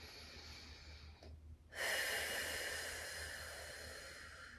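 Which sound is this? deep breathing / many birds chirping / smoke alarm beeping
deep breathing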